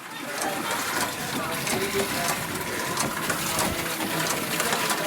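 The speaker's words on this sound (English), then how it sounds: "Steam engine." Steady mechanical chugging and hissing of a running steam engine at the Black Country Museum, continuous and fairly loud, with a watery, pumping texture throughout.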